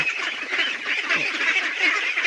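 A flock of domestic ducks feeding on snails, a constant overlapping chorus of nasal quacks and honks, loud and close with no talk.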